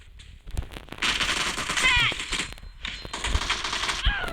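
A rapid-firing weapon in an online shooter game, heard as two loud sustained bursts of fast automatic gunfire with a brief gap between them, close and dominant, with a few faint earlier shots.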